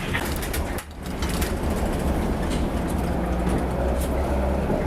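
A loud, steady rumble of a tram passing close by in Tervuren, Brussels, continuous throughout with a brief dip early on, plus faint high squeaks from the tracks.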